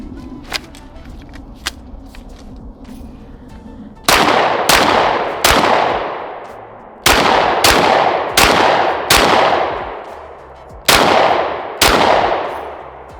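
Gunshots from a rifle fitted with a Recover Tactical 20/20 stabilizer at an outdoor range: about ten loud, sharp reports from 4 seconds on, some in quick pairs and some spaced apart, each with a short decaying tail. Faint handling clicks come before them.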